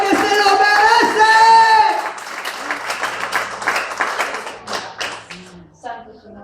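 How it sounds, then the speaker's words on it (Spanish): A church congregation breaks into sustained clapping, loud and dense at first, then thinning into scattered claps that trail off. "Dele un aplauso al Señor, porque se lo merece."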